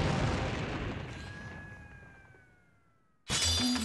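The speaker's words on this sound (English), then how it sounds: "A butter knife split a bullet." A gunshot-style bang at a butter knife as a fake effect: a loud broadband blast that rings and fades over about three seconds with a falling whistling tone, then an abrupt loud burst of noise at the end.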